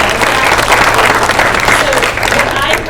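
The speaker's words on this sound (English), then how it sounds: "So a big round of applause to our staff and our students" Audience applause fills a school board meeting, steady dense clapping throughout with a faint voice mixed in beneath the crowd noise.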